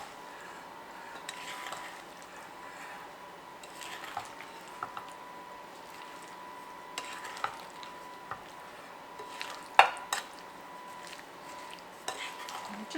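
Black currants are mixed with sugar for a pie filling, producing soft intermittent clinks of a utensil against a bowl and faint wet squishing, close and quiet with a few sharper knocks.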